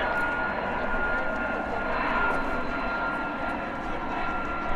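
Military jet aircraft at an airshow, a USAF F-35A Lightning II launching for a demo, heard as a steady, loud, broadband engine roar that holds for the whole stretch with faint radio talk in the background.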